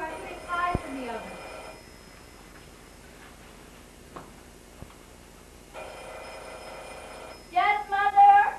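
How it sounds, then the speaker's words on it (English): A telephone rings inside a family home: two long bursts of bright, trilling bell-like ringing separated by a quiet gap, fairly clear and near, with a voice speaking briefly at the end. "Answer the phone, Sherry."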